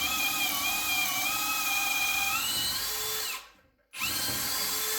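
A Parkside Performance 20V PABSP 20-Li cordless drill whines steadily in its slower first gear, close and loud, then winds down and stops briefly before spinning back up.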